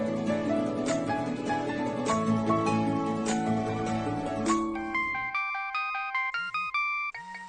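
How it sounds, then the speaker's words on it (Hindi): Mobile phone ringtone for an incoming call, a melodic tune over music that then plays alone as a bright repeating chime pattern, fairly close. "विराट का फोन।"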